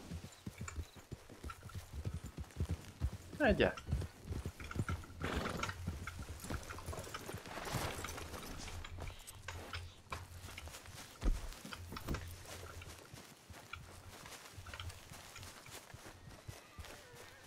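Horse hooves clip-clop at a steady gait in the video game Red Dead, sitting under a low background hum with a brief spoken word partway through.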